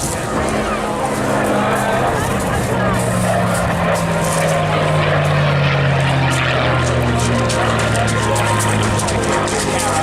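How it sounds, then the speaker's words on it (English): A Supermarine Spitfire Mk9 fighter flies past at a seaside airshow. Its loud piston engine roars throughout, with a drone that slides down in pitch as it passes, while an announcer talks over it. "Please welcome the City of Exeter Spitfire, running in from your right hand side."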